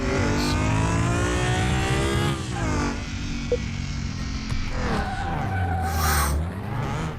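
A V6 engine revs hard in the Car Mechanic Simulator 2021 video game, its droning whine rising and falling while tyres skid and squeal continuously, loud and close with no speech.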